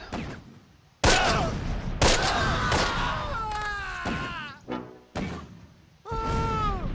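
Gunfire in the World War II strategy game Close Combat: Last Stand Arnhem, fought around a bridge: loud, sharp shots and thuds burst out at irregular intervals, with brief in-game voice callouts between them.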